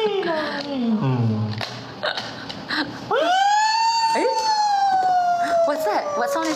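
A voice imitating an ambulance siren, with wavering, rising and falling wails and a long sustained whooping tone in the second half, loud and close.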